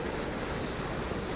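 Sea waves wash steadily onto Folkestone beach in the early morning, a continuous close broadband rush of surf with slight wind noise and no voices.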